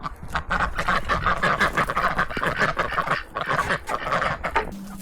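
Several pet ducks quack in rapid, overlapping bursts close by, a busy continuous chatter of nasal calls lasting throughout before cutting off near the end.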